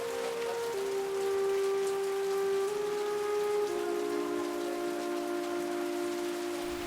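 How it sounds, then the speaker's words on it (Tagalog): Rain falls steadily, a soft even patter, with a faint sustained humming tone running underneath. "tunog ng ulan ang naghele sa mga bata"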